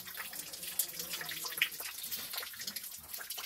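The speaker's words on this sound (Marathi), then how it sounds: "शेवटी इथं एक छोटासा असा झरा लागला" Faint trickling and dripping of water from a small spring on a trek to Ratangad fort, a steady thin splashing with a few brighter drips, heard close and quietly without talk.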